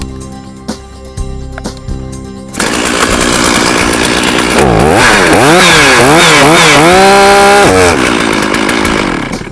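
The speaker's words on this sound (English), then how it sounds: "take that saw and run it at about half throttle and hit the chain brake just to make sure it stops that chain from rotating" A chainsaw is started and run at about half throttle to test its chain brake, a loud, close engine snarl that rises and dips in pitch in several revving swells before settling, following a few sharp knocks and clatters at the start.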